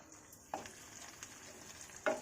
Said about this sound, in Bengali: সাথে আদাটাও দিয়ে দেবো এবার